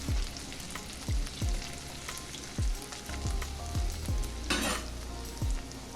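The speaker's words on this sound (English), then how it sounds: "Get them there to sauteing. Give them a quick mix." Chopped onions sautéing in a pan for chicken liver pâté, a steady close sizzle broken by a series of sharp spoon knocks and stirring scrapes.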